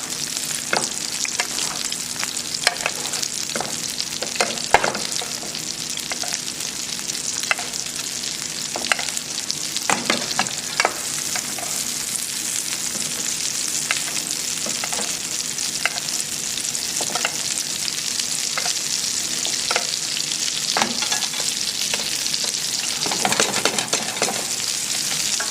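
Sole fillets fry meunière-style in a pan over very low heat while being basted, a steady, even sizzle with frequent light spoon clicks and scrapes throughout.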